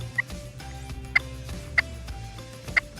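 Sharp, single turkey clucks made with a turkey call ring out four times at irregular intervals, short and crisp over quiet outdoor background noise.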